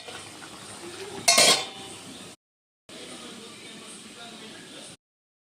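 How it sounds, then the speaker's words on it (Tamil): Metal kitchen vessels, including a copper pot, are washed by hand: one loud clanking clatter of metal on metal, then softer scrubbing and rinsing noises broken by a short silence. "நான் அந்த பாத்திரத்தை ஃபுல்லாக கழுவி போட்டுறேன்"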